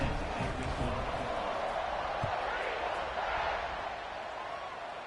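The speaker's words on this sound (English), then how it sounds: "this crowd is buzzing after that last score" Auburn vs Alabama college football stadium crowd keeps up a steady, dense buzz from start to end, with a commentator talking over it.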